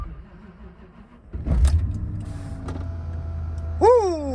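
A cold Range Rover P38 with a 4.6L engine cranks and catches, its idle settling into a steady low rumble, followed by a rising whine near the end, close and loud.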